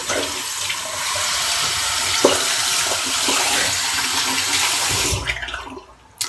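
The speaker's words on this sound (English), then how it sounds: "I probably should rinse there too" A bathroom tap runs steadily while a razor is rinsed under it, a loud continuous hiss of water with a few knocks. It cuts off near the end.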